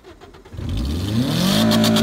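A car engine revs hard at launch with the throttle floored, rising from near quiet into a loud, sustained climbing roar with a sweeping pitch, alone and close.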